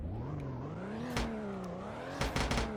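Car engine idling and revving after startup, a steady droning tone rising and falling in pitch with a few brief louder bursts near the end, fairly quiet and close.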